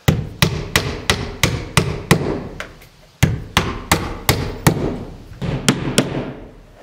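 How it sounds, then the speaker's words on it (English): Nails are hammered in to fix a window in place while it is installed in a guesthouse under construction. Two runs of loud, close, evenly spaced blows land roughly three per second, each ringing briefly, with a short pause between runs. "I will then put a nail right in the middle so nothing changes. And then nail it all off."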